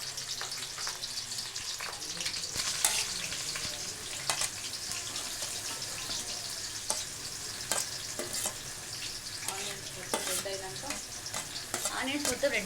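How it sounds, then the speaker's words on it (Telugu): Onions fry in hot oil for a chicken curry, sizzling steadily up close while a spoon stirs and scrapes the pan in irregular bursts, with no talking. "నూనె కాలింది, ఉల్లిగడ్డలు వేసిన,"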